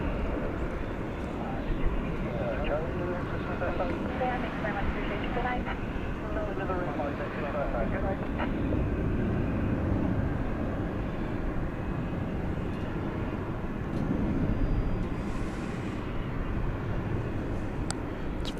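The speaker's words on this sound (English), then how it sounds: "the Spirit plane as it heads off to Vegas here" At night a Spirit Airlines jet takes off from runway 18 left at Dallas Fort Worth airport, heading for Las Vegas. The engine roar is a broad, sustained rumble, and someone talks over it throughout.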